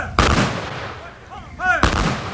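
A rifle volley cracks out at a Memorial Day cemetery service, two sharp loud shots about 1.6 seconds apart, each ringing off with a short echo.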